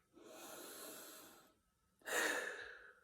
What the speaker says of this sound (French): tu vas respirer un grand coup